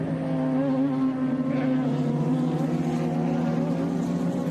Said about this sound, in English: So down the main straight comes Nick Persing for Cameron Racing.